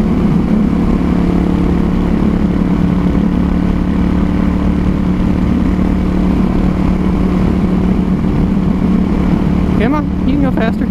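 Motorcycle engine in a video game, a steady mid-pitched drone running loud and constant throughout, with faint chirpy effects near the end.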